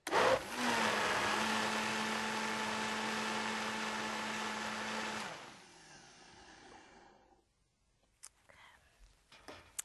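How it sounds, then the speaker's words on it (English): A blender whirs steadily for about five seconds while blending raw corn chowder, then winds down and stops, followed by a few faint clicks and small handling sounds. "And let's blend it a little bit more."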